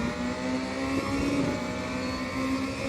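A BMW M4 DTM race car engine at Zolder in the RaceRoom racing game, a steady loud engine drone holding an even pitch with slight wavering, heard alone without talk.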